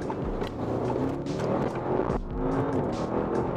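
A 600-horsepower Audi RS6 Avant with a twin-turbo V8 accelerates hard from inside the cabin, its engine note climbing through the revs, dropping briefly at a gear change, then rising again, loud and continuous with no talking.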